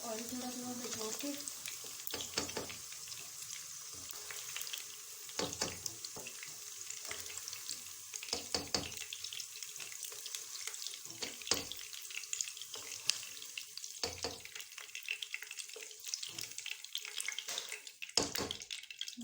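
Food fries in hot oil in a pan while cooking keema, a continuous crackling sizzle broken by sharp scraping and clattering strokes, near and fairly loud with no talking.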